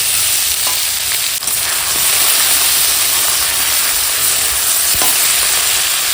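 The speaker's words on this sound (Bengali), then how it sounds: "এখন একটু সব মানে ভালো করে ভেজে নেব ফোড়নের সঙ্গে ভালো করে একদম কষিয়ে কষিয়ে ভাজবে" Spices tempering in hot oil in a pan with cut tomato and potato, a steady loud sizzle and hiss throughout with occasional stirring clicks.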